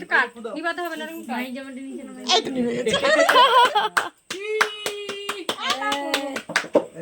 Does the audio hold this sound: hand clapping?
yes